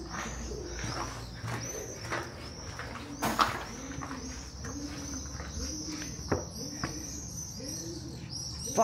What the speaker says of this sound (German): Taube!